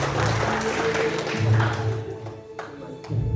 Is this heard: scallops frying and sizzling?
no